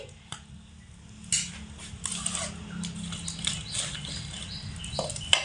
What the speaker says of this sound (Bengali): জল ফুটছে